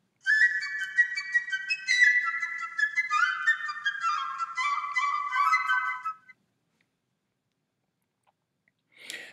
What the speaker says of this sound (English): And here's your example of a piccolo sound.